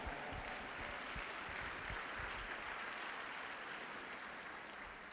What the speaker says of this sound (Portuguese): Quem crê nisso aí, dá um aplauso a Jesus.